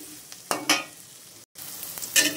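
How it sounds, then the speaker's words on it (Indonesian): Shallots and garlic sautéing in a little oil, a steady close sizzle with bursts of stirring scrapes and spatter, fairly loud throughout. "kita sengatin dulu bawang merah bawang putihnya sampai agak kekuningan gitu"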